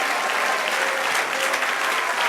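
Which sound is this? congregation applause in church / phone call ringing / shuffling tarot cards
congregation applause in church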